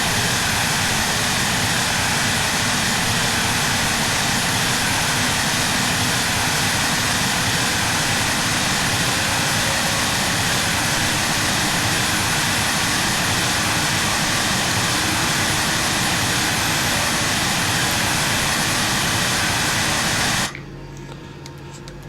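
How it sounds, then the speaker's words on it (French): Jet engines of an Embraer ERJ 170/175 in Microsoft Flight Simulator 2020 hold a steady, loud, broadband roar with a high whine for about twenty seconds, then drop abruptly to a quiet hum. "on peut voir que les moteurs sont à présent stabilisés pour les deux"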